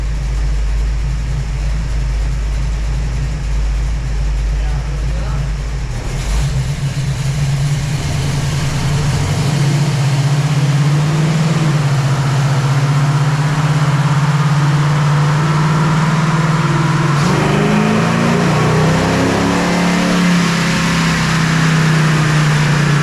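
A stock 440 big block Mopar engine in a Challenger R/T runs on a dyno, holding a loud, steady low drone throughout with a brief shift in pitch partway, and no voices over it.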